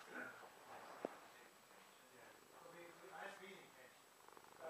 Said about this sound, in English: Purring.